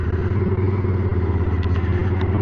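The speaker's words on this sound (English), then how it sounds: "You press the start button and they just go boom!" A Harley-Davidson Sportster 1200 motorcycle engine runs close and loud, a steady, rough low rumble with a faint mechanical clatter through it, and no distinct single bang stands out.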